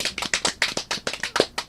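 A small audience applauding at a live show, with rapid, close, crisp claps in a steady patter, no voices over them.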